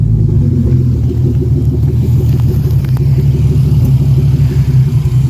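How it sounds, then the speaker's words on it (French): A loud, deep, rumbling BMW E36 turbo engine idles and revs steadily, its throaty modified exhaust burble continuous throughout. "j'ai le bruit de la voiture qui sort à l'avant"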